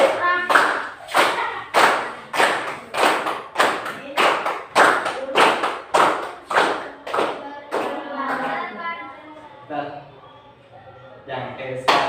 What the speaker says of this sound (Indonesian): panggil tepuk tangan ya Bapak